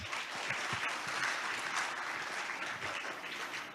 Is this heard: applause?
yes